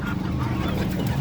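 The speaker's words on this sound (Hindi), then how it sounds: "ये वाइट वाली मुर्गी देखो कितनी प्यारी है" A white hen clucking nearby, with the low, soft clucks of the chicken running continuously through a short stretch alongside other faint background sounds.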